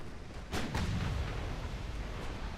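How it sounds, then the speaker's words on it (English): Torpedo detonations in the naval warship game Ultimate Admiral Dreadnoughts: two deep, booming blasts in quick succession, followed by a long rumbling roar that fades slowly, with no talk. "Torpedo detonations, you'll love to see it."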